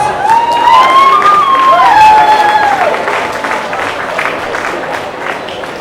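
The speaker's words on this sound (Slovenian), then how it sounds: "Dajmo en močen aplavz." A May Day bonfire crowd applauds the president of a Slovenian union confederation as she takes the stage, loud clapping with some cheering and whistles that gradually fades.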